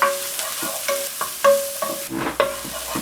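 Shallot and garlic sautéing in extra virgin olive oil, with a loud, close spatula scraping and tapping against the pan in an irregular rhythm over a soft sizzle.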